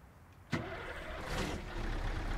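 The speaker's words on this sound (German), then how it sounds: "hören uns mal den LKW ganz schnell an" A Scania 143M truck engine cranks with a sharp transient and catches, settling into a steady low idle rumble, close and alone, in Euro Truck Simulator 2.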